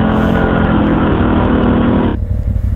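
A CF Moto or Polaris quad in deep water and sand runs loud and close at half throttle with a steady engine roar, then drops off sharply near the end.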